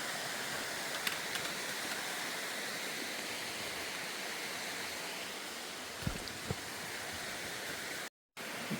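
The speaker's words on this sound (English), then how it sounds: "This is a pretty epic water slide." Water rushes steadily down a rough natural rock water slide along the Appalachian Trail in North Carolina, a dense, unbroken roar with a few faint knocks and a brief dropout near the end.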